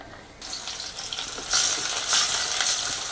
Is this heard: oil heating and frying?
yes